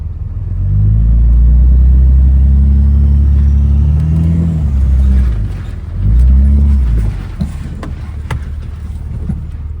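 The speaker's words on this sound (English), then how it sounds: "Best part about these older diesels is you can actually hear them work." An old diesel truck engine laboring in a ditch, deep rumbling drone that swells as it pulls, dips briefly, then surges again with a faint turbo whine, loud and close.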